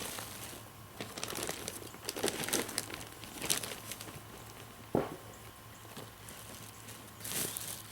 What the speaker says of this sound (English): I'm kind of fluffing my bag out and I'm spreading my dirt